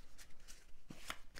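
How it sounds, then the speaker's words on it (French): Tarot cards are drawn and handled close up, giving a few quick, soft papery slides and flicks with short pauses between. "Et ici, on va prendre 3 cartes."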